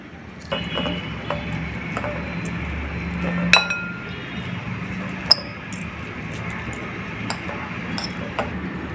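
A fork clinks against a plate while separating large pieces of cooked chicken for a chicken sandwich, with sharp scattered ringing taps over a soft scraping background, close and irregular.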